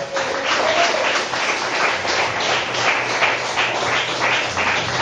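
A church congregation claps its hands steadily and in unison, a dense, continuous burst of applause filling the room.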